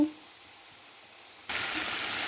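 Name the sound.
chicken added to frying spices in pan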